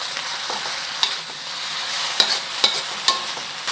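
Char kway teow noodles with chives stir-frying in a wok give a steady close sizzle, broken by several sharp clinks and scrapes of a spatula against the metal.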